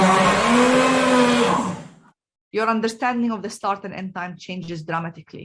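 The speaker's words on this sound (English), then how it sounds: "look at this video and try to understand when the person is actually blending" A kitchen blender whirs loudly and steadily for about two seconds, then stops abruptly; after a short silence someone talks.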